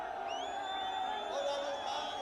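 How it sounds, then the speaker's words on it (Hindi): Loud crowd of Sachin Pilot supporters chanting and shouting slogans against a Gehlot minister at a Rajasthan Congress political rally, a dense, close wall of overlapping voices that never lets up. "भीड़ इतनी तेज से नारेबाजी करती है कि मंत्री जी की आवाज लाउड स्पीकर के बावजूद दब जाती है"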